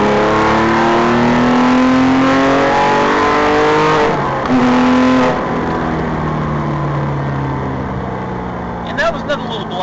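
A loud Porsche R43 flat-six engine revs and accelerates, pitch climbing through gears, with a brief downshift to third and a voice speaking near the end.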